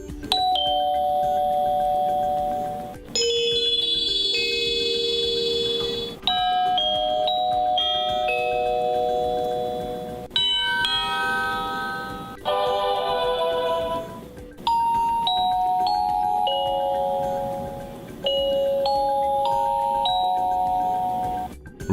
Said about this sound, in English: comes equipped with 6 CD-quality chimes with adjustable volume